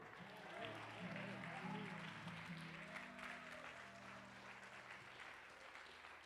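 Congregation applauding in a church service, steady moderate clapping sustained throughout with sung or held voices and music tones beneath.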